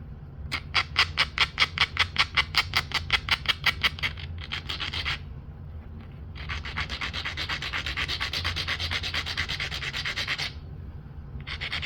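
Root beer chert is ground along its edge to bevel a platform: first a fast, rhythmic series of short scraping strokes, then longer, sustained abrasive rubbing with brief pauses, close and clear with no talk.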